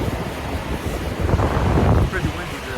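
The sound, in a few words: wind blowing at a truck stop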